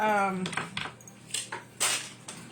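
A knife cuts the rib bone out of a whole chicken being spatchcocked, making scattered metallic clicks and scrapes against the bone and board, close by. A voice speaks briefly at the start.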